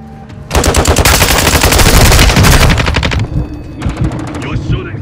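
Rapid automatic gunfire in a first-person shooter video game: a loud, close burst of fast, evenly spaced shots lasting a couple of seconds, followed by a few scattered shots and a short second volley as the firing trails off.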